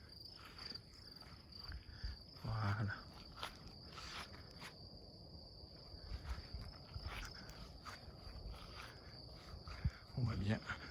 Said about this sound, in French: On sait que les cigales font leur son, leur chant avec leurs ailes, et les grillons avec leurs pattes